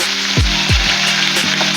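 Chopped ridge gourd crackles and hisses steadily in a hot frying pan, close and fairly loud, with two dull low thuds early on as pieces drop in, and no talking.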